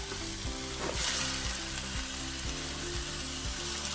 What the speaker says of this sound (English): get my cast iron pan going here at about medium high and cook the turkey